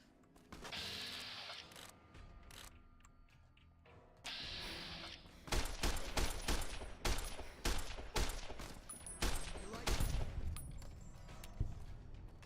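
Rapid bursts of gunfire in Fallout: New Vegas, heavily modded, with sharp repeated shots coming close and loud, first in short clusters and then as a dense sustained volley.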